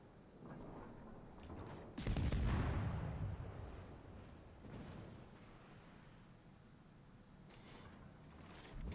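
Warship guns fire in the World of Warships video game: a heavy booming salvo erupts and rolls away into a long rumbling decay, followed by fainter distant shots, all fairly quiet overall with no talking.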